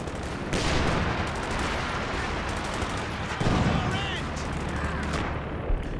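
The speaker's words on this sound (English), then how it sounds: "There's a machine gun there ready to deal with it." Bursts of machine gun fire and other gunfire crackle through a large 4v4 Company of Heroes 2 battle, dense and continuous with heavier thuds mixed in, while a commentator talks over it.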